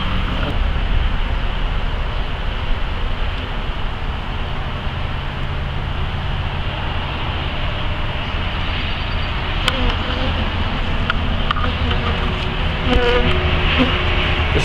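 Honeybees at an open beehive, with a dense, continuous buzzing swarm close by and loud throughout, a soft hum of distant traffic mixed underneath.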